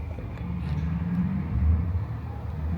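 A Dodge Charger R/T rumbles low and steady as it is driven off toward a garage, engine swelling slightly midway, heard from a short distance with no talk.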